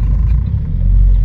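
Hybrid-turbocharged red Opel OPC engine droning steadily with deep, loud rumble close by, a continuous low roar with no break and no talking.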